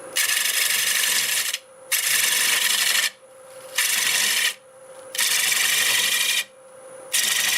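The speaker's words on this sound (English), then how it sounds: "We need to clean this up first, so we do a little shear scraping, try to get that little pith area out." A tool shear-scrapes a black walnut blank spinning on a wood lathe, giving loud raspy hissing strokes in a steady rhythm of five long passes separated by short pauses.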